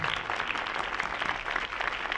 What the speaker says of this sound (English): Would the finalists please stand so that we can give you a round of applause if you are here tonight?